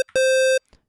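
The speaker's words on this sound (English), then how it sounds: "saw wave," A bright sustained saw wave tone from the 3x Osc synth plugin rings steadily for about half a second, alone, with a brief blip before and a faint tail after.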